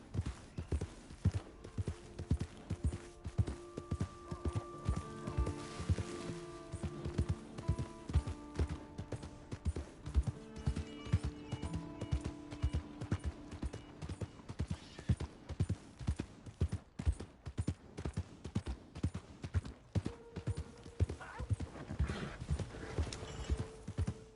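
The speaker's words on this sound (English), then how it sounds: "My horse!" Rhythmic hoofbeats of a galloping horse pound steadily throughout, close and driving, over a faint tonal background, in the video game Red Dead Redemption 2.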